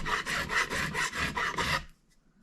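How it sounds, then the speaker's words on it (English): A hand file rasps in rapid back-and-forth strokes across a guitar neck, taking off black magic marker to level it; about eight close, steady strokes, then quiet. "file all that magic marker off, you've got it level"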